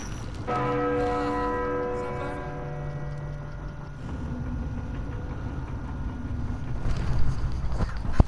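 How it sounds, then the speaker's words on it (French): A large copper church bell in Uncharted 4 tolls once near the start, its rich ringing tone decaying slowly over several seconds beneath steady wind and water ambience. "La cloche tout en haut."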